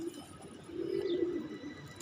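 A pigeon coos softly nearby, one low, steady throaty murmur swelling and fading over a couple of seconds against faint background noise, with no one speaking.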